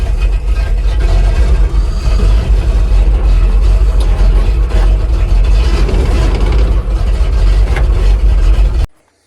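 A Gazelle truck engine runs loud and close while unloading at a warehouse, a steady low rumble with rattling texture that holds throughout before cutting off.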